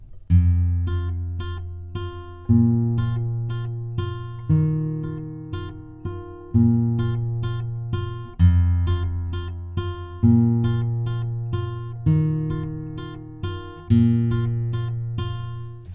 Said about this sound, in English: we're just going to play the tremolo on the 1st string